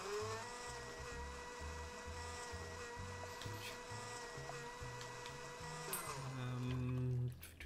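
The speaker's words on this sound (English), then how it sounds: "I need to blend" A blender whirs steadily inside a cooking video game, layered over upbeat game music, with a brief clatter of game effects near the end and no one talking.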